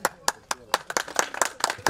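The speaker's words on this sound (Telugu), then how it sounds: "claps కొట్టాలమ్మా, claps" A small group claps at a school reunion felicitation for an old SSC batch, sharp separate hand claps in an uneven rhythm, close and fairly loud, with talk in the background.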